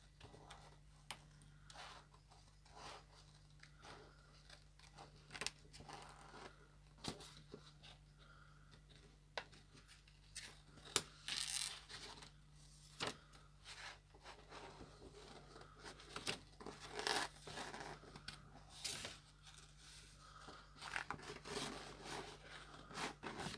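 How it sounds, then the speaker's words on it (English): Scissors snip a cloud shape out of paper in a craft project, with a long run of quiet, irregular cuts and rustles of paper being turned, close and soft, without any talking. "So I'll just kind of fussy cut this cloud sort of shape out."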